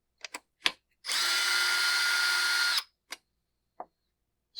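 A power screwdriver or drill backs a screw out of a Husqvarna 372XP chainsaw during a fuel tank replacement, one steady whirring burst of about two seconds, with short clicks and taps before and after.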